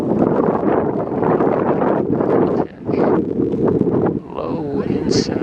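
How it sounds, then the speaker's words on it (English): Strong wind buffets the microphone at an outdoor baseball game in Aruba, a steady loud roar with gusts throughout, and someone talks over it. "All I know is it's windy as hell."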